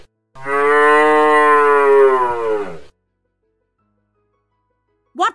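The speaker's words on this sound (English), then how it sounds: "A cow moos." A cow gives one long, loud moo lasting over two seconds, full and harmonic with a falling close, then silence and a brief faint sound at the very end.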